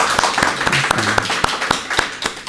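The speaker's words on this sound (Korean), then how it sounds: "박수로 환영을 할까요?" A church congregation claps to welcome a visitor, a dense burst of hand applause lasting a couple of seconds with sharp individual claps standing out near and loud, a voice faintly heard underneath.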